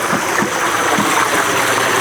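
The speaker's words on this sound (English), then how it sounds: "that first waterfall, it's really cool. It's just splashing around in that little pool there" A small backyard waterfall splashes into a pond pool, giving a constant, dense rushing wash close by with no voices.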